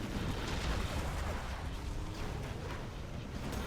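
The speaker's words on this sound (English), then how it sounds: "Nice explosions there from ExCaL" Dense, continuous rumbling explosions and blasts from a Command & Conquer Generals match, with GLA demo units and superweapons on the Canyon of the Dead map, filling the whole stretch at steady loudness with no pauses.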